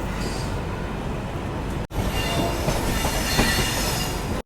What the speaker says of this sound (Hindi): फिल्लौर जंक्शन से ट्रेन अपनी निकल रही है।